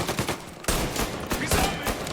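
Dense gunfire from the Mafia Definitive Edition video game, with rapid overlapping shots and bursts in a loud, continuous fusillade during a firefight.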